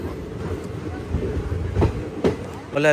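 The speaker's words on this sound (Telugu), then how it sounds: "ఈ సిరిపురంలో కూడా ఒక 1 minute స్టాప్ తర్వాతనైతే మన ట్రైన్ బయలుదేరిపోయింది" Repalle Express pulls out of Siripuram station after a one-minute stop, with rhythmic clickety-clack of wheels over rail joints, a few sharper knocks, and a voice briefly heard over the rolling train.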